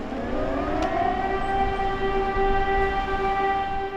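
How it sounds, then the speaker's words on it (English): An air raid siren wails steadily somewhere in Ukraine, its rising, sustained tone carrying clearly over the constant low rumble of a moving train. "An air raid siren warns of some threat in the sky"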